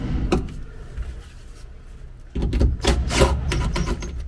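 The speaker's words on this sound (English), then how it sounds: "This is a pretty weak little impact driver." A small, low-powered impact driver snugs sun visor screws into the cab of a 1949 Chevy 3600 truck. A quiet pause gives way to a burst of close, raspy whirring and rattling.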